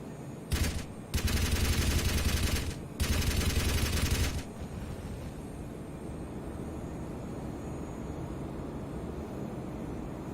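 A 30mm cannon on the To-201 Shikra jet in Arma 3 firing in two loud sustained bursts of rapid shots, followed by steady jet engine roar.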